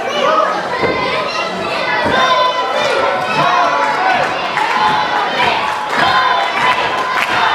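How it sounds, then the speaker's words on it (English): Wrestling crowd at a live match cheering and shouting for a wrestler, a dense, loud wall of excited high-pitched voices and yells rising and falling throughout. "this crowd getting behind Toby Valentine"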